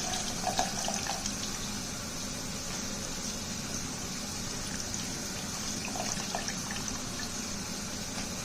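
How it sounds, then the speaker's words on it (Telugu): Soaked tamarind juice poured into cooked dal for sambar makes a steady, close splashing and trickling stream of liquid that runs evenly for several seconds with no voices. "ఇప్పుడు నెక్స్ట్ ఇందులోకి చింతపండు రసం వేసుకోవాలి నానబెట్టిన చింతపండు రసం"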